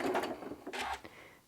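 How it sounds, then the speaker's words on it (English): Janome M7 sewing machine running a quarter-inch top stitch with an HP2 foot, a short burst of fast mechanical whirring and clatter lasting about a second, close and moderately loud. "And we're just going to do a stitching."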